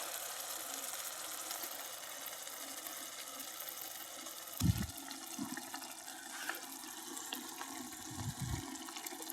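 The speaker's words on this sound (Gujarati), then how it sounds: "થોડું પાણી એડ કરીશું આપણે." Water is added to an egg and prawn curry cooking in a pan. A steady soft hiss runs throughout, broken by a few dull low knocks.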